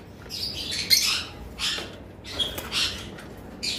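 A pair of lovebirds giving short, shrill chirps and squawks in quick bursts, close by, with brief pauses between calls and no talking.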